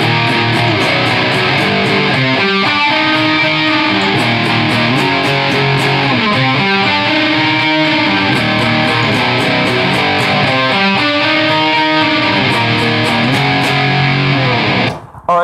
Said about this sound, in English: I'm using a 92 Studio Les Paul.